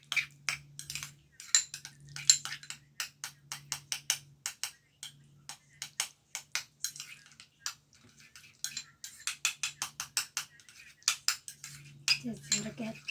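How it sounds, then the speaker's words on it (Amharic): A spoon clinks and taps against a bowl while avocado and honey are mixed, quick irregular metallic ticks at close range with a low steady hum and brief pauses. "ከዛ አንድ ላይ አደባልቃለሁ።"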